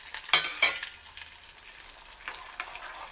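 Lentils and peanuts sizzling in hot oil for a tempering, with a couple of sharp stirring scrapes early on and a soft crackle continuing underneath, close and moderately quiet.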